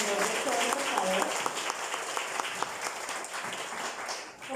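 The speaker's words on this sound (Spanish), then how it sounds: "Un aplauso de bienvenida para nuestro señor rector, por favor." Welcoming applause from a conference audience greets a university rector, a dense patter of clapping that holds steady and then tapers off, with some talk mixed in.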